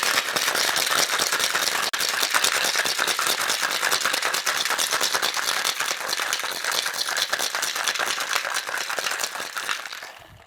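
Ice is shaken hard in a cocktail shaker, a loud, close, continuous rapid rattle of cubes against metal lasting about ten seconds before tapering off, with no voices.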